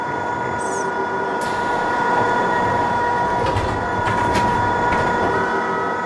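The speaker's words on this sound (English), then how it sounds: "I guess the train's right there" A subway train rumbles steadily past on the way to a bath spa, with a continuous loud roar of wheels and cars, sharp brief squeals and clatter partway through, and no talk.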